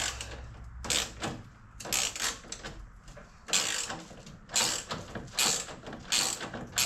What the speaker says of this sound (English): And a 13 millimeter wrench here. Go ahead and take this off.